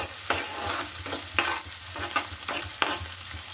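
Chopped onion and green chilies frying in a pan, a constant close sizzle with regular stirring scrapes every half second or so.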